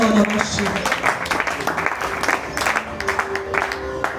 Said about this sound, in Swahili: Hebu mchapie Yesu makofi